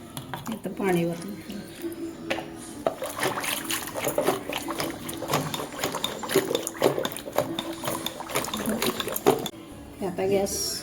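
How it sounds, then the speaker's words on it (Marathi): Water poured into a cooking pot while making dahi kadhi, a soft trickling splash running under continuous talking throughout. "आता पाणी वतलं।"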